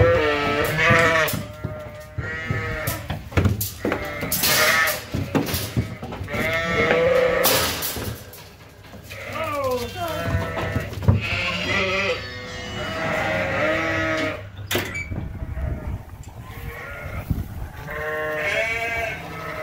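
Dorset sheep bleat repeatedly and close on a farm, several overlapping calls at irregular intervals, with some thumping and handling noise between them.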